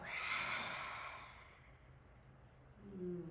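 A long, soft exhale during a guided breathing exercise in a short release and rebalance practice, one airy breath that fades out over about two seconds with no talk over it.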